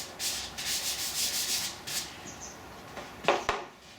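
A wood-turned piece gets a light rubbing of finish, a soft, repeated hissing scuff in short strokes, fairly quiet and close, with a few brief sharper rubs near the end.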